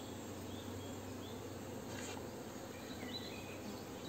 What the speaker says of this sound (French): Les abeilles viennent voir la reine.